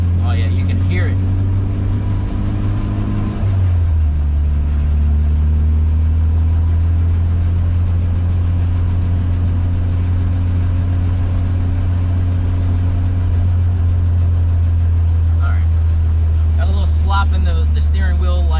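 A car's engine drones loud and close with a deep, steady hum on a sketchy first drive down the block, its pitch shifting slightly early on. A person talks over it.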